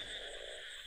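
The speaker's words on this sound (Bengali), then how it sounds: "ব্যাঙের ডাক ভেসে আসছে সেখান থেকে।" Frogs croak from rice fields at night in a continuous, rather faint chorus heard from a distance.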